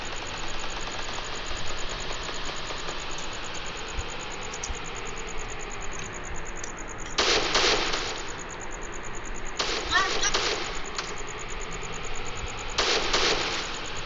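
Car engine in Free Fire idling and running with a low continuous rumble, broken by several loud bursts of gunfire-like noise; no talking.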